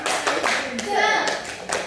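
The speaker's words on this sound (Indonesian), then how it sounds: "Tepuk semangatnya dulu, Pak." A classroom group performs a rhythmic spirit clap, several sharp handclap bursts in a patterned beat, with voices talking and chanting over and between the claps.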